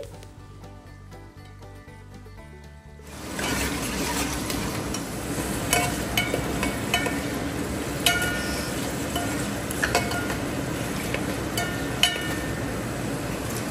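Potato and carrot pieces fry in ghee for a wedding-style vegetable pulao, a steady dense sizzle that starts abruptly after a quiet few seconds and keeps going loud and close, with occasional spoon clinks and no talk.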